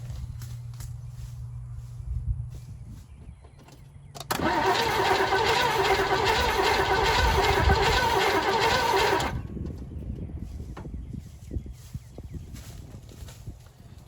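A 1985 Chevy Square Body engine cranks without catching, a loud rhythmic starter churn lasting about five seconds, with quieter clicks and shuffling before and after.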